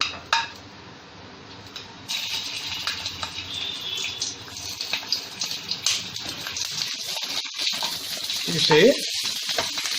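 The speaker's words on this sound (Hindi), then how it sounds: "अब मिर्ची को हमें फ्राई करके लेना है।" Green chillies frying in a pan of oil for Hyderabadi mirchi ka salan, a steady hiss that swells near the end, with faint utensil clinks and a voice speaking over it.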